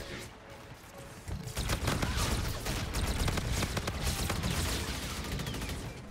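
Volk assault rifle in a video game firing loud, close bursts of rapid automatic fire, sustained over several seconds with dense overlapping shots.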